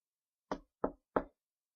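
Three firm knocks on a door, evenly spaced and close, in otherwise silent surroundings.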